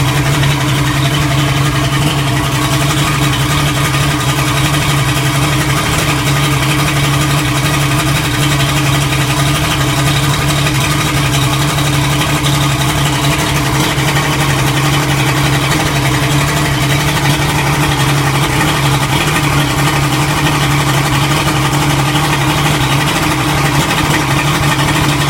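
A Mercury Black Max 175 hp outboard engine idling, a loud, steady low hum and buzzing drone with no change in pace throughout.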